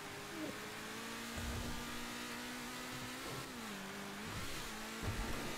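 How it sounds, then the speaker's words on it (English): A car engine in a GTA roleplay game revs and accelerates steadily, a continuous droning tone rising and falling in pitch through gear changes, fairly loud with no talk over it. "Why does this car sound fast, but it's not fast?"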